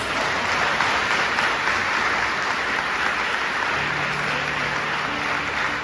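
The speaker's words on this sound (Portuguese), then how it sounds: "Você pode dar um aplauso a Jesus?" A church congregation at an Easter service applauds steadily and loudly throughout, a dense wash of clapping with no voices rising above it.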